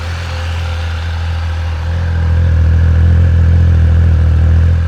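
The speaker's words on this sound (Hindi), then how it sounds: "एक बार आप इसकी आइडियल पे आवाज़ सुनो।" A Triumph Speed Triple 1200 RR motorcycle engine idles close by, a deep steady throb that swells slightly louder partway through and holds.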